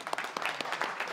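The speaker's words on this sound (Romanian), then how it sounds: "aplauze pentru Ciobico" Brief audience applause for a chef at a comedy show in Transylvania, quick irregular claps forming a short, moderately loud burst.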